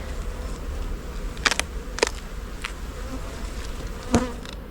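Honeybees during a hive inspection, a close, continuous buzzing hum broken by a few sharp clicks and taps of handling, with no voices.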